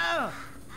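An angry bird caws once in the game Portal 2, a loud, descending harsh call that fades quickly into quiet background.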